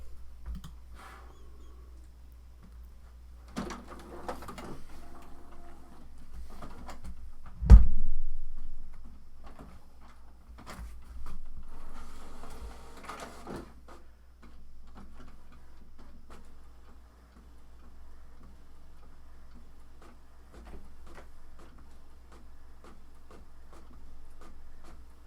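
A home printer prints images for a Cricut print-then-cut project. It gives quiet bursts of mechanical whirring, clicking and feeding over a low hum, with a sharp clunk partway through and soft ticking in the gaps.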